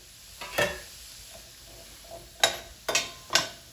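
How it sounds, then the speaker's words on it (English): Sweet pepper sautéing in a hot pan: a quiet background sizzle broken by four sharp scraping stirs, one early and three in quick succession near the end. "Next, we're going to saute our veggies. We're going to add the sweet pepper."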